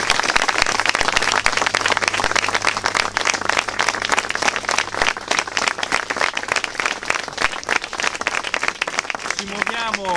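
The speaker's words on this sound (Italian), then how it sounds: "Io vorrei fare un applauso alle persone" Dense, steady applause from a crowd at a Bologna commemoration fills the whole stretch. A voice speaks briefly near the end.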